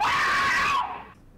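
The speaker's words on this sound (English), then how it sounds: "Why is she screaming at the top of her lungs then?" A grandmother character in the horror game Don't Scream lets out a loud, piercing sustained scream lasting under a second before it cuts off abruptly.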